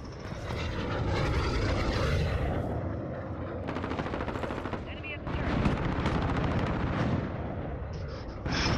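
A chopper gunner killstreak helicopter fires in Call of Duty: rapid bursts of heavy automatic gunfire and explosive impacts pound continuously over a droning rotor and engine roar, loud and close throughout.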